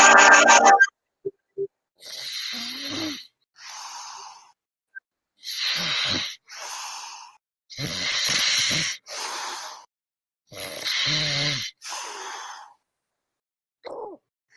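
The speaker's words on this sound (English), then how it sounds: "why is he snoring so goddamn hard?" A man snores loudly and close by, with roughly eight rasping, breathy pulls spaced one to two seconds apart and silence between them.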